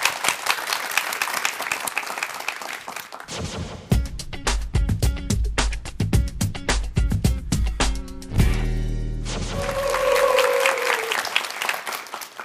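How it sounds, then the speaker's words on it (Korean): Audience applause at a talk concert welcoming a singer to the stage, with bursts of clapping and crowd noise around a stretch of loud stage music, then steady applause again. "박수 주시죠."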